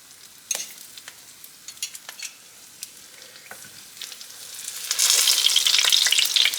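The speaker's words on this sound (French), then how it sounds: "je vais venir mettre dans ma poêle avec mon huile chaude, mon beignet" A vegan fritter is lowered into hot oil in a pan, scattered faint crackles building into a loud, dense sizzle over the last couple of seconds.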